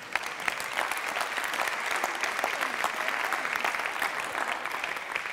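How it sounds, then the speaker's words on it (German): Seminar listeners at a motivational talk applaud a woman from the audience with steady, dense clapping that holds at an even level for several seconds, moderately loud and without speech. "dafür verdient die Dame einen Applaus."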